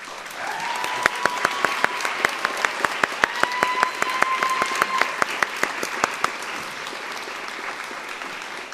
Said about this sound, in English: Please stand so we can congratulate you.